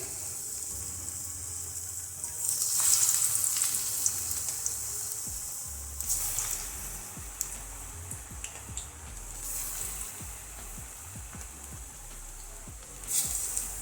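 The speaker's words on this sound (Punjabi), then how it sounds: "ਤੇਲ ਗਰਮ ਹੋ ਗਿਆ ਤੇਲ ਦੇ ਵਿੱਚ ਆਪਾਂ ਇਸ ਤਰ੍ਹਾਂ ਦੇ ਇਹਨਾਂ ਨੂੰ ਗੋਲੇ ਜਿਹੇ ਬਣਾ ਕੇ ਤੇਲ ਦੇ ਵਿੱਚ ਛੱਡਦੇ ਜਾਵਾਂਗੇ ਇੱਕ ਇੱਕ ਕਰਕੇ" Kofta balls frying one by one in hot oil over a low flame, a soft continuous sizzle with scattered pops and small bursts, close and moderately quiet, no voices.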